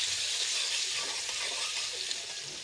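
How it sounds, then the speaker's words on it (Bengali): Sliced onions frying in oil with whole garam masala for a chicken curry with potato and yogurt: a soft, even, unbroken hiss of sizzling throughout. "গরম মশলাগুলো দিয়ে পেঁয়াজগুলো লাল করে ভাজবো"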